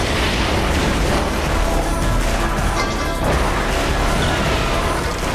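Loud, continuous crashing and smashing as a reinforced car rams a fleeing target vehicle in the racing game The Crew, with dense metallic impacts and engine roar filling the whole stretch.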